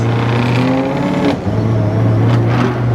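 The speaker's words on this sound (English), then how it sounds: "The blower sounds really good." A loud supercharged Ford Coyote V8 engine in a swapped Ford Dentside crew cab pickup revs steadily with a whining blower, the pitch rising and falling slightly throughout.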